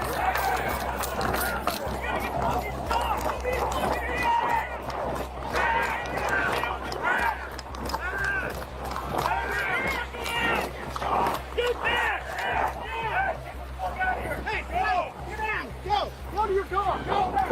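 A panicked crowd on a beach shouts and scatters, running, after a cry that someone has a gun while deputies break up a fight. The loud, dense babble of yelling voices continues throughout without a break.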